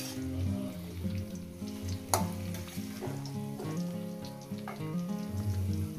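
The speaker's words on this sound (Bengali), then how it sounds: "এটাকে 5-6 মিনিট এভাবে একটু ভেজে নেব" Potato and pumpkin green stems frying in poppy seed paste, a steady close sizzle with scraping stirs and one sharp utensil knock, alongside a strong hum of background music tones.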